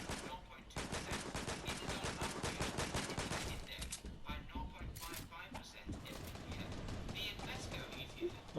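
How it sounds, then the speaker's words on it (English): Gunfire in the video game Fortnite during a squad match, dense bursts of rapid shots piling over one another throughout, loud and continuous, with game sounds and a voice mixed underneath. "Why is about 100 people shooting me?"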